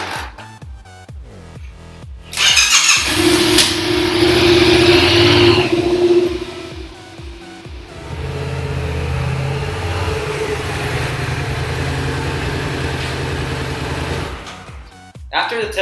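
A Yamaha MT-07 motorcycle fitted with Gears Racing front fork preload and rear shock on a test ride, its mid-pitched engine droning loudly and steadily with wind roar, rising in a stronger pull before settling into a cruise.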